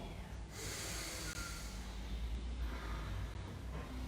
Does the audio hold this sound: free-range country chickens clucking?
no